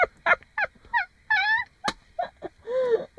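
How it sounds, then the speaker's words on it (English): Birds in a park in Denmark, with goose-like honking calls close and loud, in quick bursts of separate squawks and wavering cries, heard alone without talk. "Maybe for you guys it's nothing, just some birds"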